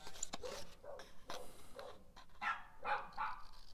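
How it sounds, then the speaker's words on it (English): Small Jack Russell terriers next door bark in repeated sharp, high-pitched yaps, fairly distant and irregular, bursting in quick clusters with brief gaps between. "So if you can hear barking in the background,"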